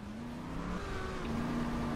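A car engine in Just Cause 2 hums and rises in pitch as it accelerates, fairly quiet and steady, with gear-like steps in the tone and no talk over it.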